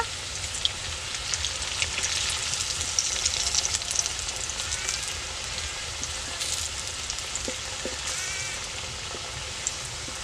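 A fritter for a peas recipe fries in hot oil in a pan, giving a steady, close crackling sizzle with scattered pops and a few soft knocks as it is turned over.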